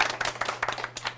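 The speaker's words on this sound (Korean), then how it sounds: "박수 부탁드리겠습니다." A talk-show audience at a startup founder's event claps in a brief burst of close, irregular hand claps lasting about a second.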